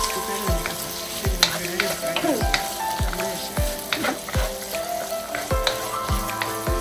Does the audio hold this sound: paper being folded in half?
no